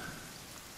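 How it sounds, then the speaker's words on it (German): Steady rain from the survival video game The Forest, a soft, even hiss of falling drops that stays faint and constant throughout. "wir müssen so schnell laufen, dass wir vom Regen nichts abkriegen"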